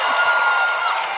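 A live podcast audience in Oakland cheers and applauds, a dense, steady wash of clapping and whoops filling the room for about a second.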